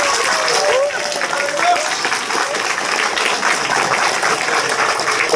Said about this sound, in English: Give us a round of applause and we'll make our way.